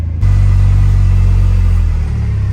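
Car engine rumbling steadily and loudly at close range as the vehicle drives off-road through a cornfield, a continuous low drone with no talk.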